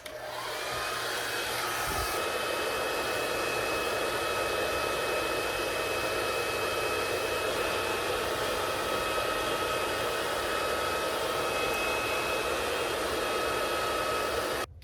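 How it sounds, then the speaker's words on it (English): A blow dryer roars steadily at close range, switching on and running continuously with a constant high whine. "and our blow dryer."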